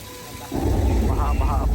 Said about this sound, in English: Those are sprinklers, shooting the water straight up into the air, allowing the water to fall down naturally to the earth.